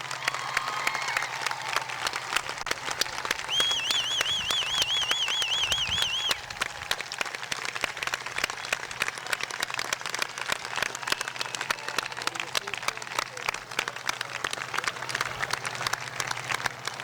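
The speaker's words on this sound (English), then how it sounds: "Let's hear it for a round of applause" Sustained applause from a graduation crowd at a middle school ceremony, steady and fairly distant, with a brief whistle-like tone early on and a low hum underneath.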